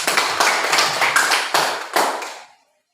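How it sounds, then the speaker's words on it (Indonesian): Students in a classroom clap for classmates, a dense burst of overlapping claps with a few louder accents that quickly fades to silence. "Tepuk tangan dulu untuk mereka."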